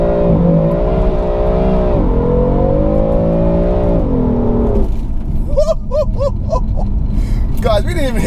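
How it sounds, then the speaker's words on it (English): A car launches at full throttle, its engine revving loudly with rising and falling pitch for several seconds before tires spin and smoke pours. Excited voices then break in over the fading engine. "we're just going to mash the throttle and see what we get"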